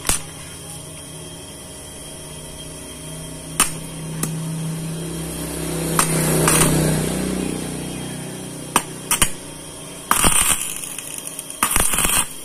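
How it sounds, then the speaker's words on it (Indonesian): Electric welding on the rear CVT bearing of a carbureted Honda Beat scooter produces sharp crackling bursts and pops at irregular intervals over a low steady hum, with a longer buzzing stretch in the middle and dense crackle toward the end. "saya akan las dulu"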